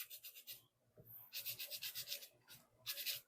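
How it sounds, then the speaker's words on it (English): Scrubbing small silicone milking-pulsator diaphragms during cleaning, brisk bursts of rubbing strokes in rapid rhythm with short pauses between, close and fairly quiet. "Give that a good scrub"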